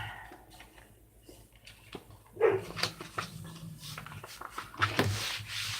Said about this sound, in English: And yell at the dogs to be quiet.